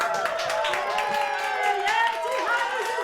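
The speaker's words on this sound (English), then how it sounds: "I don't know if you can hear all that cheering for you, brother." A live show audience cheers and claps for a singer and Na Hoku Hanohano Award winner, a steady wash of crowd voices and whoops holding at an even level throughout without letting up.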